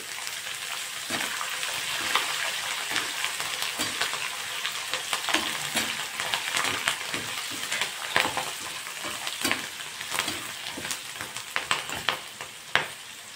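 Green and dried chillies frying in a hot pan, with a steady close sizzle and scattered crackles and pops throughout, no talking.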